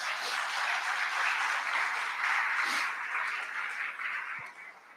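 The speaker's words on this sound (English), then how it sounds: "Give them another round of applause." A crowd at a school commencement service applauds in a steady wash of clapping that fades toward the end, with no talk over it.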